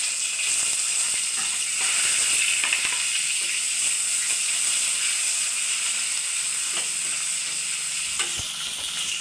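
Onions frying in a pan give off a steady, close sizzling hiss throughout, broken by occasional scraping stirs, with no voices.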